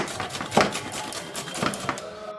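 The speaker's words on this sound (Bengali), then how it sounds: "গ্রেটারের সাহায্যে আমি এটা গ্রেট করে নেব" Bottle gourd is rubbed against a hand grater in a close, rhythmic scraping of repeated strokes, each one a brief rasp, with no voices.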